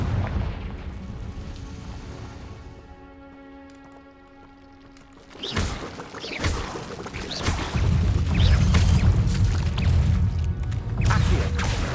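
Confringo fire-blast spell explosions in the game Hogwarts Legacy, a creaking mechanical hum that drops away before a sudden booming blast, followed by a loud, rumbling fiery roar that sustains to the end.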